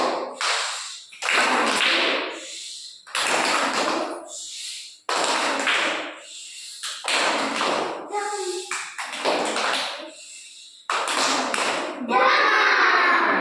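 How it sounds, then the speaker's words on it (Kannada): Children in a class perform the 'rocket' clapping pattern, a series of loud group hand claps and taps in roughly regular bursts with short pauses between, mixed with children's voices chanting along. "ರಾಕೆಟ್ ಚಪ್ಪಾಳೆ"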